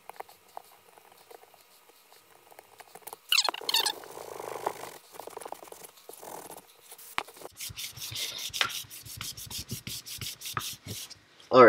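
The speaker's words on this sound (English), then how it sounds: "we're going to use some brake cleaner and a shop towel to remove the glue residue" A shop towel scrubs brake cleaner and glue residue off a dirt bike silencer, making close, irregular rubbing and scratching strokes in uneven bursts that get busier toward the end.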